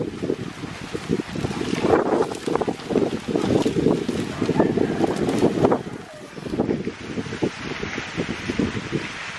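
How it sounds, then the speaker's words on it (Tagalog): Strong gusting wind roars and buffets the microphone continuously, with rustling and a brief lull partway through. "Ang lakas ng hangin."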